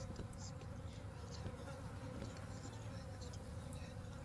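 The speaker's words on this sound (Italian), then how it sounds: "Mamma, ci sono un po' di mosche in camera tua." Flies buzz steadily and closely through a room in an Italian horror train video game, a continuous insect drone with faint patter, no voices over it.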